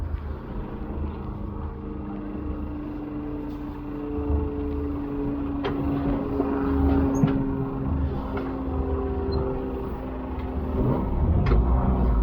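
A modern sailboat's inboard engine drones steadily at low pitch while the boat manoeuvres under power, the note rising slightly as throttle is pushed, with a few faint clicks and knocks over the continuous hum.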